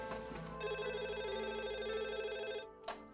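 A telephone rings with a continuous electronic trill, steady and fairly loud indoors. It stops abruptly near the end, followed by a brief click.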